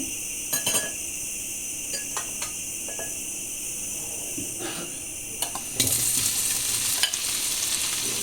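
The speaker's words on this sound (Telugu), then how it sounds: "పన్నీర్ ముక్కలు ఈ విధంగా వేసాను. వేసిన వెంటనే ఇట్లా కలబెట్టుకోవాలి" Paneer pieces sizzle and crackle in hot oil in a kadai while being stirred, with a steady frying hiss broken by occasional spoon scrapes, growing louder and busier near the end.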